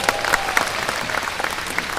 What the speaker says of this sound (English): Give us a happy round of applause.